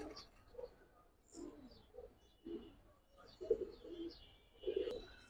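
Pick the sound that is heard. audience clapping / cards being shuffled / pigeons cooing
pigeons cooing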